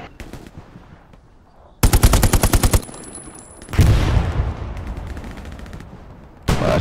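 Machine-gun fire in a garrison battle near a church in a multiplayer shooter, a loud rapid burst followed by heavy rolling gunfire, then another sharp burst at the end, with almost no talk.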